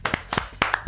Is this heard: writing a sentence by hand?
no